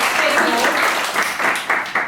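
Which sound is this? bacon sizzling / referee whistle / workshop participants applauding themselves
workshop participants applauding themselves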